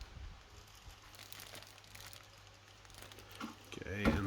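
Plastic bag holding Tamiya Renault Alpine A110 model kit parts crinkles softly and intermittently, growing louder with a burst of handling near the end, with quiet talk underneath.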